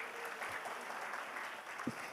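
An audience claps in a motivational seminar hall, a dense steady patter of many hands continuing at even loudness throughout, with no talk over it.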